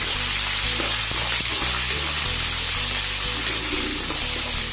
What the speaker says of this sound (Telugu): ఇప్పుడు ఆనియన్స్ యాడ్ చేసుకున్నామండి